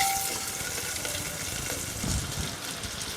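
Green chillies and salted onions fry together in a pan, a close, steady sizzle with soft stirring scrapes and no talking.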